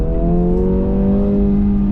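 A 2024 Acura Integra Type S accelerating along a twisty road: a loud, steady engine drone with its pitch gradually rising, heard from close by and with no talking.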